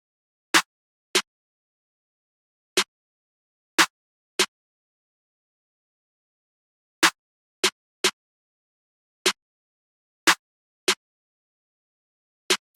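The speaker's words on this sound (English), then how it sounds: "For the snare, we're using one from a Cymatics kit called the March Snare." March Snare from a Cymatics drum kit, layered with claps, playing a sparse programmed pattern: a dozen sharp, bright isolated hits in irregular groups separated by silence.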